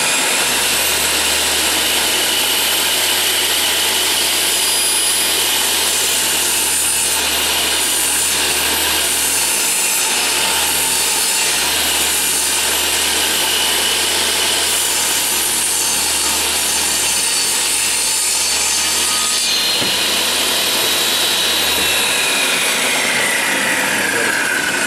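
A saw cuts a quarter-inch-wide slot through a wooden board with a steady, close rasping that carries a low motor hum beneath it and runs unbroken for most of the stretch.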